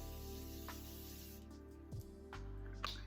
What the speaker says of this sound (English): I'm now going to go with my Morphe spray.